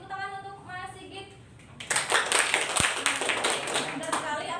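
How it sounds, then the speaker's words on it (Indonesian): A classroom of students breaks into a burst of hand clapping for a classmate during a microteaching lesson, loud and close, after a moment of talking. "beri tepuk tangan untuk Mas Sigit"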